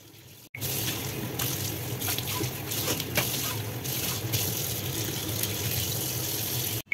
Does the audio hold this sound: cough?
no